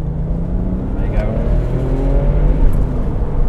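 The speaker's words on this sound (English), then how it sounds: "You can really hear the turbos" A Porsche 996 911 Turbo (X50) accelerates hard, its engine and turbochargers building a steady rising drone inside the car while occupants talk over it.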